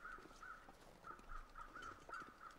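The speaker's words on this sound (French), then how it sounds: "Du bruit les corbeaux là, mais je ne vois rien du tout." Crows cawing in The Long Dark, a wilderness survival video game: a faint, distant series of about eight short harsh caws in an irregular rhythm over a quiet outdoor background.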